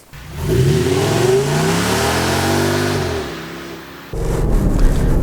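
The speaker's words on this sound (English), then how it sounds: "Driving the Audi S6 V10" An Audi S6 V10 engine revs up loudly, pitch climbing and falling through the gears, then a sudden shift to a rougher steady drone near the end.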